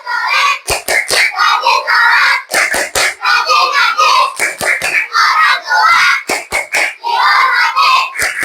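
Schoolchildren in a classroom performing the clapping chant 'tepuk anak soleh', sharp patterned clap bursts in rhythmic groups alternating with loud chanted voices, close and energetic throughout.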